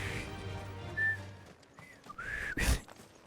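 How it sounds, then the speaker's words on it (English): Someone whistling and humming at the same time indoors, a quiet low hum followed by short thin whistled notes, with a sharp noisy burst near the end. "You can whistle and hum at the same time?"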